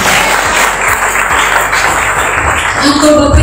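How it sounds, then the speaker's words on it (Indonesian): An audience claps in applause at a business seminar, a dense, loud burst of many hands lasting a few seconds. "tepuk tangan dong Bapak PTBS"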